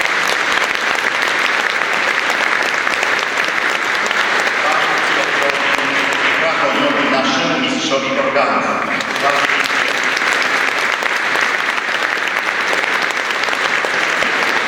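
Sustained, loud applause from a church audience after Mass, honoring a violinist who played during the service, continuous dense clapping throughout with a few voices speaking over it.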